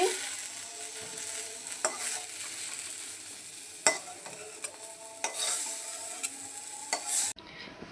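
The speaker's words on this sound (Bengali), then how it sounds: "বেগুনগুলো লাল করে ভেজে নিচ্ছি" Eggplant pieces fry in hot oil in a pan, browning in a Bengali home kitchen. A continuous soft sizzle runs throughout, broken by scattered sharp clicks and scrapes of a utensil stirring against the pan.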